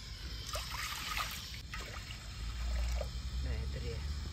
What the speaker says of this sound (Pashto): اوبه مو ور واچولې، یو څه اوبه به ور واچو